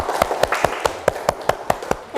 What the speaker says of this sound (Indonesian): Tepuk tangannya untuk Kakak Fahri